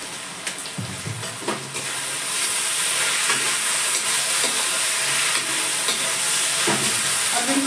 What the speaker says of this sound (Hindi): और बिल्कुल हाई फ्लेम पे इसको चलाते रहेंगे।